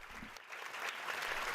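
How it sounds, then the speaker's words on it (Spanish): Applause from an audience in a hall greets the Pope's entrance, a faint but continuous patter of clapping that swells slightly toward the end. "Con este aplauso están acogiendo al Papa León en su ingreso al aula"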